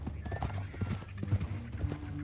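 Horse hooves clip-clop through the outdoors of the video game Red Dead Redemption 2, with uneven steps, a short whinny and faint talk mixed in.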